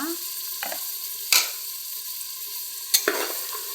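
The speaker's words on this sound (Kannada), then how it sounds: "ಖಾರ ಚೆನ್ನಾಗಿ ಎಣ್ಣೆ ಫ್ರೈ ಆಗಬೇಕು ಇದು ಮಸಾಲ" Masala paste frying in oil in a pan while making mushroom biryani: a steady, close sizzle, broken by a few sharp scrapes and clinks of stirring.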